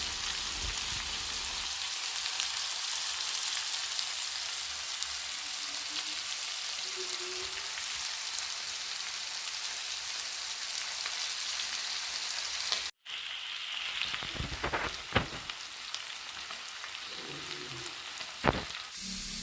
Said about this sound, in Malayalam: ഇനി ഒരു വശം നല്ല രീതിയിൽ മൂത്തിട്ട് നമുക്ക് തിരിച്ചിട്ട് വറുത്തെടുക്കാം